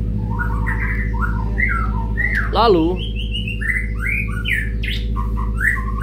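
Long-tailed white-rumped shama (murai batu) calling with varied chirps and whistles, one loud rising-falling call standing out midway, over a steady low mechanical hum; a voice briefly speaks.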